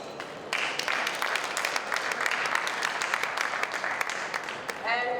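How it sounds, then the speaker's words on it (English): A conference audience at a vegetarian congress in Dubai breaks into sustained applause, many hands clapping in a steady mid-distance wash, with a voice speaking briefly as it ends. "A round of applause for Wafa, please."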